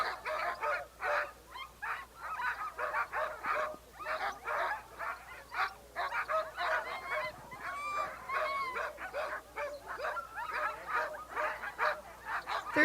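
Many Iditarod sled dogs barking and yelping on race day in rapid, overlapping bursts at moderate distance, an excited continuous chorus.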